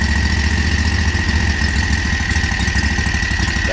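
A warm Predator 670 engine runs rough with the choke on, a loud, steady, close-up chugging idle with an uneven pulsing throb throughout.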